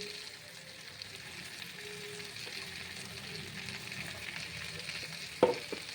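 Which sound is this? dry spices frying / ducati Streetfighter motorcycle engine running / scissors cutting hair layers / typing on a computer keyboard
dry spices frying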